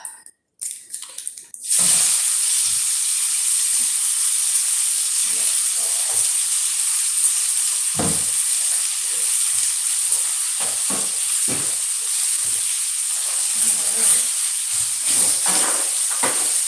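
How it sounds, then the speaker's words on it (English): Loud, continuous sizzling and hissing of meat frying in a hot pan, with a few faint clinks and stirring sounds. "Wait for some sizzle."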